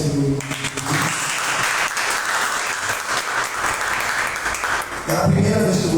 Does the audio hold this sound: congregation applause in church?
yes